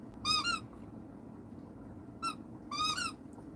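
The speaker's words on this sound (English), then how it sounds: "Got a lot of noise with the squeaky toy from dogs." A dog's squeaky toy squeaks in a quick pair of high squeals and then a second burst, faint but distinct over low background hum in a tiny house, with no one talking.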